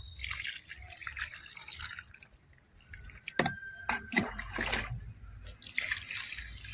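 Water drips and trickles while poppy plants are watered, in scattered splashes and patters, close and soft, with a few brighter drops standing out.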